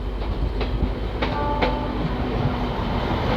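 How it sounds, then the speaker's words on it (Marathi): A train rolls steadily along nearby as it arrives at Pandharpur railway station, its wheels clacking over rail joints with a continuous low rumble and faint tonal squeals. "गाडी मित्रांनो आता पंढरपूर रेल्वे स्टेशनवरती अरायवल करत आहे"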